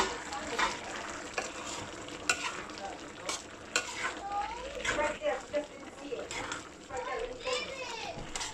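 Pork dinuguan with tamarind mix is stirred in a covered pot, a spoon scraping and knocking over a soft simmering sizzle, while children's voices chatter and play faintly in the background.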